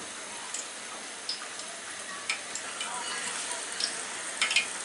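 Coriander leaf pakoras frying in hot oil, a soft continuous sizzle with occasional small pops and crackles, heard close and steady without talk.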